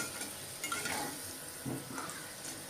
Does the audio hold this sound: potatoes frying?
yes